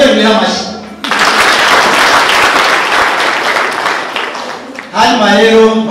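Audience applause at a Umuganura harvest celebration in Gisozi sector, 2023, a dense, steady burst of clapping lasting about four seconds, set between stretches of a speaker's amplified voice.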